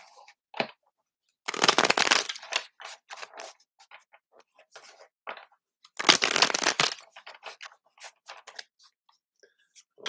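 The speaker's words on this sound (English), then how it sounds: "pull some cards here from the Tarot of the Magical Forest and give these a shuffle" Tarot cards are shuffled in two loud bursts of riffling, separated by scattered lighter taps and card handling noises, close up.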